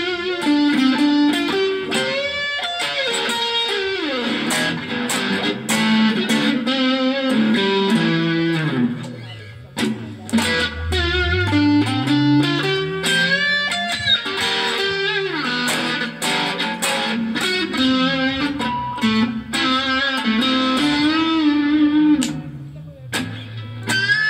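An Ibanez electric guitar played through a distorted Laney amp, switching neck, both and bridge pickups, a run of overdriven chords and sustained notes with a few short pauses, loud and close.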